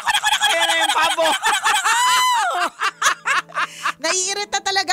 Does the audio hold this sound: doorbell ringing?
no